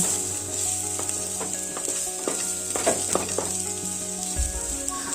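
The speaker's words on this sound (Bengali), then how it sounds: "খুন্তি দিয়ে পেঁয়াজগুলোকে বেশ কিছুক্ষণ নেড়ে নেব" Chopped onions fry in oil with whole garam masala spices, a close bright sizzle under quick clattering strokes of a metal spatula against the pan, steady and fairly loud with no speech.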